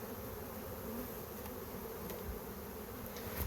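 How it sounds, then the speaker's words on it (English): Honey bees swarm in the air above an opened hive in an apiary, a continuous close buzzing drone with a few individual bees whizzing past the microphone. "You can see just in that few seconds we were in it, how many bees are up in the air now."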